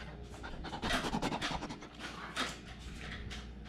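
A dog pants close by in quick, breathy rhythmic huffs, moderately quiet, with a little scratching and no talking.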